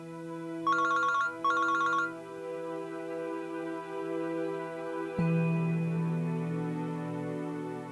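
A telephone gives two short electronic ring bursts near the start, then they give way to sustained tonal background sound, with no voices.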